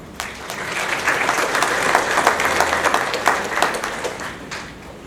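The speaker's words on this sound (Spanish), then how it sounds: "Recibamos pues con un aplauso al señor Rafael López Abad" Audience applause welcoming Rafael López Abad to the stage at an internal auditing talk, a steady wash of many hands clapping that swells and holds for several seconds before easing slightly.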